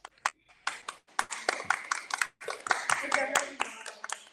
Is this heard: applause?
yes